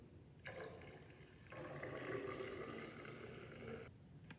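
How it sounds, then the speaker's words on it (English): Distilled water pours into a measuring cylinder in two bursts, the second longer and steady, a close, hollow splashing stream that stops near the end. "Fill the remaining measuring cylinder with the distilled water."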